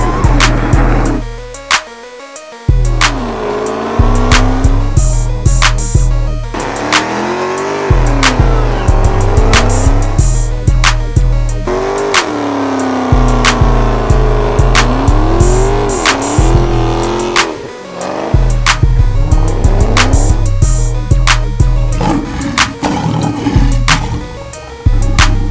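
A straight-piped 2018 Dodge Durango RT roars extremely loud, revving repeatedly with sharp rising and falling engine sweeps, crackles and pops, close and continuous throughout.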